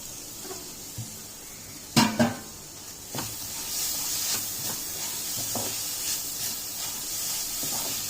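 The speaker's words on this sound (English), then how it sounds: "Let's saute this mixture until it blends together." Carrots and onions sauté quietly in oil over a low flame, a soft steady hiss broken by a few sharp utensil knocks and scrapes against the pan, with no voices.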